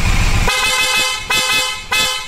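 Loud, close horn honking from a Bajaj Dominar 400 motorcycle in three bursts, the last two short beeps following a longer blast.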